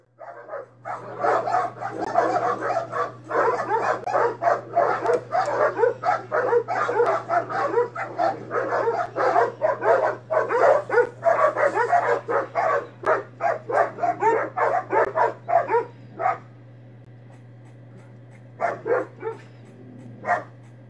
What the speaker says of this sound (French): on voit des chiens qui s'aboient dessus